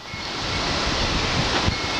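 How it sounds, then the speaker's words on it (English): Strong wind gusts around 35 mph roar continuously across an outdoor microphone, a dense, steady rush of broadband noise with no voices. "It's like 35 mile an hour wind gust today."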